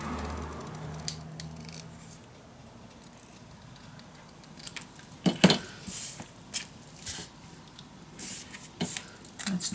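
Scissors snip through paper for a storage-book craft, a quiet rustle at first, then a run of crisp, close cuts in irregular bursts, with no voices.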